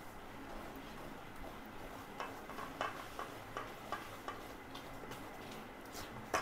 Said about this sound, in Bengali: ময়দা দিয়ে আস্তে আস্তে আমি নেড়ে নিচ্ছি সুন্দর করে।